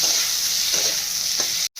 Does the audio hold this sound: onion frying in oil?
yes